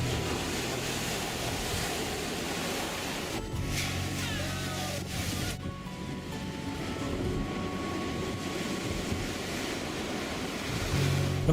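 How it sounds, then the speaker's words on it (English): Storm waves crash against a seafront coast in a steady, loud, broad roar of surf that keeps going without a break. "the storm lashed powerful waves against the coast"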